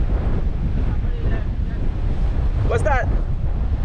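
Strong wind buffets the microphone outdoors in Bermuda, a steady roaring rush throughout, with a brief distant voice and a faint tonal squeal rising near the end.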